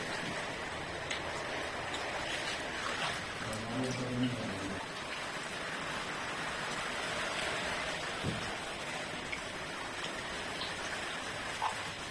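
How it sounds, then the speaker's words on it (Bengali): Rain falls outside a house, a faint, steady patter with occasional heavier drops, and a brief muffled voice partway through. "বৃষ্টিটা কিন্তু থেকে থেকে আবার জোরে আসছে"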